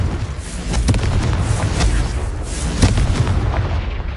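An explosive Confringo spell is cast in the video game Hogwarts Legacy, producing a loud, booming blast that rumbles continuously with several sharper impacts layered through it, with no talking.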